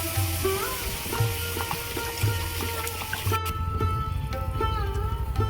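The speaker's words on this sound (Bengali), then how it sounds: "এবার আমি জল দেব" Hot pan of chicken momo gravy sizzling and bubbling steadily after water is poured in, with soft clinks and stirring noises close by and no talking.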